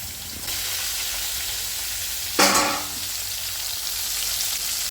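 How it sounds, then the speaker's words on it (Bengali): Pieces of catla fish fry in a pan of hot oil in a home kitchen, a continuous loud sizzle that surges briefly as more fish hits the oil, then settles back to a steady hiss. "এই যে মাছগুলো এখন আমি তেলে দিয়ে দিলাম"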